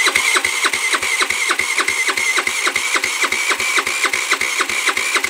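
A TaoTao GY6 80cc big bore scooter engine, fitted with a 150cc carburetor, is cranked by its starter in a fast, steady rhythmic whirring and chugging that repeats without catching, close and loud with no talk.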